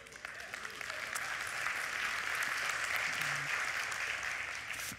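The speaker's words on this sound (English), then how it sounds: "That was only the women clapping, and that's because I remembered." A church congregation claps, mostly the women in the audience, in steady broadband applause that holds evenly through the whole stretch at moderate distance, with no talking over it.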